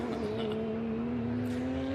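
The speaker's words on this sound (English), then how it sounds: "The Porsche Cup car." Porsche Cup race car on a track at Sebring, its engine holding a steady high-revving drone with a faint tire squeal, loud and close throughout.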